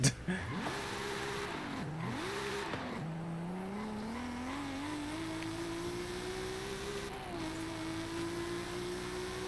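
A car engine in Forza Horizon 5 revs and shifts through gears, then holds a steady rising drone while cruising near water and a beach, loud and continuous throughout.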